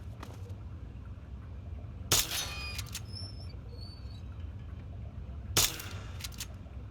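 Two sharp BB gun shots fire in Fallout 3, spaced a few seconds apart, each a crisp snap with a short rattling tail over a steady low background hum.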